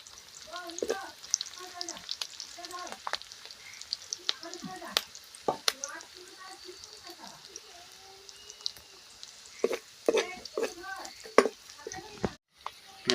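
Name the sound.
onions frying in a pan for Assamese duck curry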